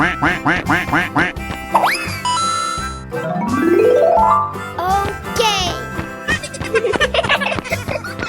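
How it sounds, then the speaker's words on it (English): A duck character quacks in a 3D animal sliding game, a rapid series of about six cartoonish quacks up front, followed by bright jingling game tones and rising slide effects, with a voice mixed in. "Quack, quack, quack, quack, quack, quack."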